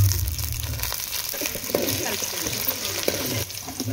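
Onions frying in hot oil for chicken liver tamarind curry, a continuous close sizzle and bubbling with clattering stirs, heard under someone talking.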